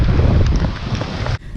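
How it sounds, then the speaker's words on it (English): Strong wind gusts roar across a microphone aboard a sailboat at sea in pouring rain, a dense, rushing wash lasting under two seconds. "It's pouring rain, it's gusting like crazy"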